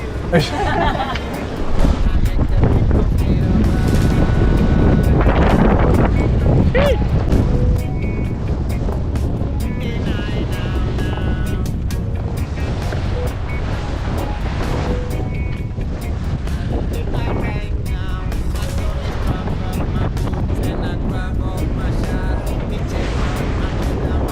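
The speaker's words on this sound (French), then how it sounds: "Petit grain qui vient de se lever" Steady, loud squall wind and rushing water noise sweep over a moving sailboat on the North Atlantic, a continuous roar with surging gusts throughout.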